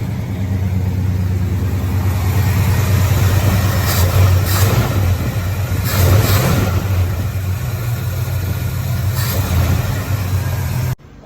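A truck engine that has been switched from Holley EFI back to a carburetor runs steadily on a lift, giving a continuous loud rumble with a few brief rises in revs.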